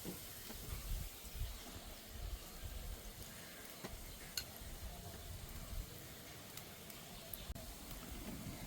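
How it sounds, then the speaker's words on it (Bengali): Semolina sweets fry in hot oil with a faint, steady sizzle and scattered small pops of bubbling, quiet and continuous throughout with no voices. "বন্ধুরা মিষ্টিগুলো ভালো করে ভেজে নিয়েছি"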